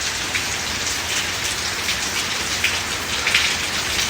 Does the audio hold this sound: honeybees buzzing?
no